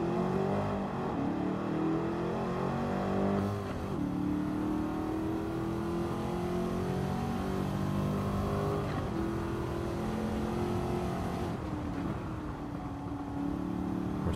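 The engine of a De Tomaso Pantera in Gran Turismo 7 revs and accelerates through several gear changes, a loud, steady sustained drone whose pitch climbs, dips at each shift, then rises again.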